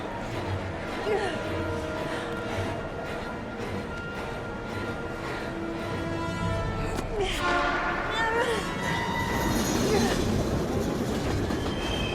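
A train rumbles past with a steady clatter and metallic wheel squeals during a tense chase scene in the video game Heavy Rain. The noise is dense and continuous, with rising shrieks near the end.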